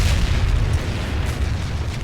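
A deep, rumbling boom with a low roar that sustains throughout, like the tail of a big explosion, from a tank battle in the war game Combat Mission: Shock Force 2.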